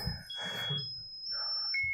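Faint, sustained high-pitched electronic tones from a computer shift in pitch over a soft, murmuring conference background.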